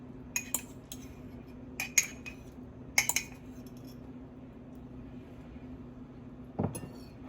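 Microwave scrambled eggs are scooped from a mug onto a plate, with a few sharp metallic clinks and taps of a utensil against ceramic spaced apart over a quiet hum, ending in one duller knock.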